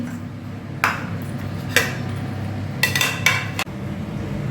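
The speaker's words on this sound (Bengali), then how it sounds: "এবার কড়া বসিয়ে দিয়েছি" A wok set down on a kitchen stove while preparing chili chicken, heard as a few sharp metallic clanks and pings at close range over a steady low background hum.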